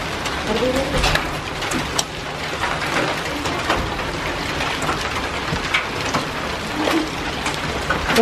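Steady heavy rain drumming on a surface, a constant wash of noise with a few sharper spatters and faint chirps in the background.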